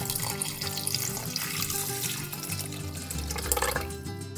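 Running water splashes steadily into a cooking pot of potatoes and carrots for tilapia fish soup, a continuous close gushing with faint clinks of metal.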